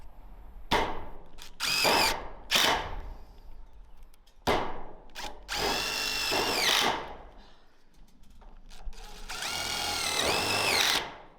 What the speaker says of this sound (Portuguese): Porque agora a gente tem que parafusar.